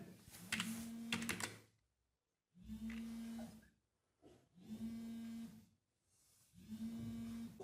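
Bursts of rapid keystrokes on a computer keyboard, separated by short pauses, with a steady low hum underneath during a networking lab session.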